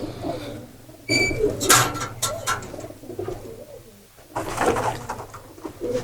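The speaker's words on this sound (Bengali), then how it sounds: "অসংখ্য কবুতর আছে এখানে" Teddy and Thirty Five breed pigeons coo nearby in soft, throaty bursts, a few rounds separated by short pauses, with no one speaking.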